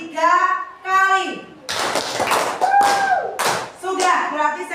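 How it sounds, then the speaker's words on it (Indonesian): A class of children claps their hands three times, sharp bursts landing between their sung and chanted voices in a classroom. "saya ingin kalian membunyikan tepuk tangan sebanyak 3 kali"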